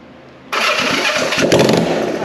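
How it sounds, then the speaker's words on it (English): A vintage motorcycle engine fires up on the starter button and catches at once, running loud and close as a steady, rough idle with a slight rise in revs. "On, and this is going to be my starter button."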